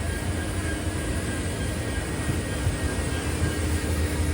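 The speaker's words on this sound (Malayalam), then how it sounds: "ഇപ്പോഴാണ് ഇവിടുന്ന് ട്രെയിൻ എടുത്തത്" A WDP 4D diesel locomotive hauls the Poorna Express away from the station, a steady, loud broadband rumble and roar with a faint high tonal whine throughout, no pauses.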